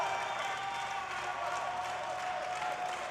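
A crowd of Swedish fans claps and cheers steadily at a powerlifting world championship, a distant, continuous wash of applause filling the whole stretch.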